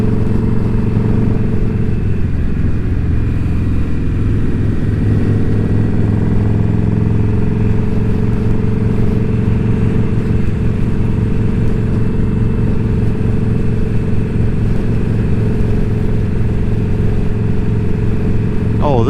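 Motorcycle riding along a paved road shoulder near King City in autumn, its engine droning steadily and close throughout with rumbling road and wind noise.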